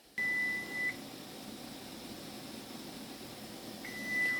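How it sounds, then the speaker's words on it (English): A kitchen timer, set while steaming puto cheese cupcakes, sounds a long steady electronic beep, then after a pause of almost three seconds starts a second beep, over a faint hum of room noise. "Our timer has ended up, so I have to cancel it."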